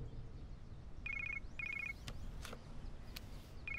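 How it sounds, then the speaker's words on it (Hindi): A telephone rings in an art class, sounding in short repeated bursts of electronic trilling tones separated by brief gaps, fairly quiet against a background hum, with no talk. "Pick up the phone. किसका फोन है?"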